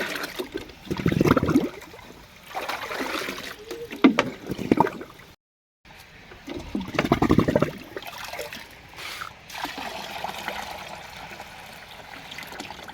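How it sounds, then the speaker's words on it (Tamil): Water being stirred by hand in a container for goats, producing close sloshing and swishing bursts that come in waves with short pauses between them. "இப்போ வந்து தண்ணி மூண்டுக்கலாம் நல்லா கலக்கிட்டு இந்த மாதிரி"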